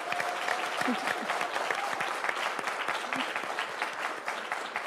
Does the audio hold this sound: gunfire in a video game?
no